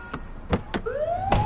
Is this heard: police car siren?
yes